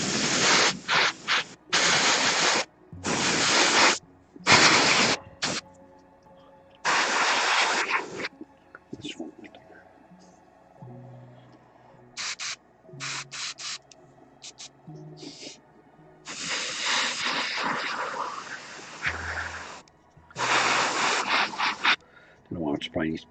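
An airbrush fitted with a 0.3 nozzle sprays primer onto the feet of Space Wolf miniatures, giving close, breathy hissing bursts of varied length separated by short pauses and quieter handling sounds.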